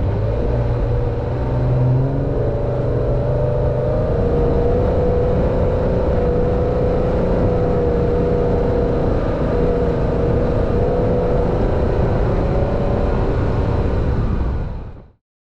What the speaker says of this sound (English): listen how much my engine struggled here